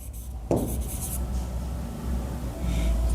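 Pen writing on paper while filling in a cashbook entry, heard as a close, steady scratching and rubbing that starts with a sharp touch-down and continues unbroken for a few seconds.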